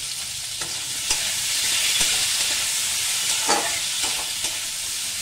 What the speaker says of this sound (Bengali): এগুলো হালকা হালকা ফ্রাই করবো, একদম হালকা হালকা।